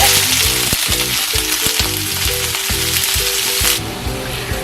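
Pieces of raw banana fry with black pepper and curry leaves in hot oil, a loud, close, continuous sizzle with crackling, easing slightly near the end, no talking.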